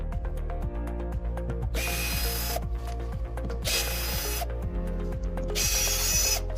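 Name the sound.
power drill removing screws from machine crate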